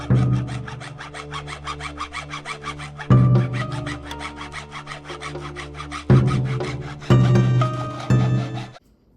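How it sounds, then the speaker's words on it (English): Hand saw cutting through the edge of a wooden end cap for a kanabō club, steady back-and-forth rasping strokes in a fast regular rhythm, close and loud, with a few brief pauses between bursts of cutting. "I trimmed the edges a bit so the end cap sits straight and on both ends"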